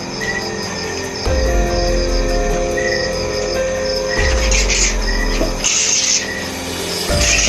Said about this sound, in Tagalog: Yan, daming ibon.